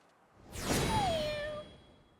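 A single drawn-out cat meow rising and then trailing off, mixed with a whooshing swoosh, from the Dragon Quest Treasures video game; fairly quiet and alone.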